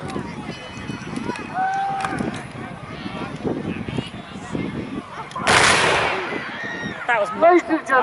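A cannon fires during a Union and Confederate Civil War drill outdoors, one heavy booming blast in the middle amid crowd chatter and an announcer's voice, its rumble fading quickly.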